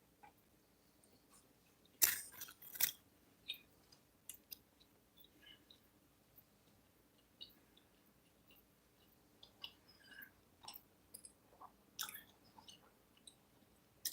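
Someone eats a leftover crunch wrap, with quiet scattered crunchy chewing and bites, a few sharper crunches standing out against a low background.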